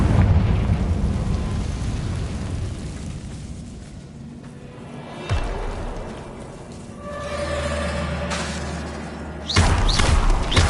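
A Confringo spell explosion in the Hogwarts Legacy video game: a loud, dense rumbling blast with heavy low boom, followed by further thuds and a sharp burst near the end, with no voices.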